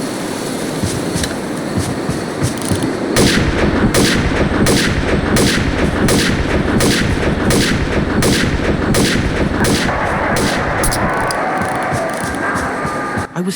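A double-barreled shotgun fires again and again in the game Doom II, loud regular blasts sounding about twice per second over a rumbling background of constant gunfire.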